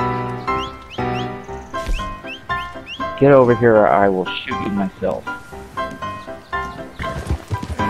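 A horse in the video game Red Dead Online whinnies in a shrill burst partway through, with brief hoof sounds around it. Players talk over the sound throughout.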